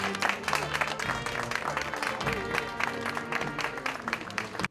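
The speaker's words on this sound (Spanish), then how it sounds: "mezclado entre aplausos." A crowd applauds during a religious street procession honoring Teresa de Jesús, with dense, continuous clapping mixed with crowd murmur and low background music.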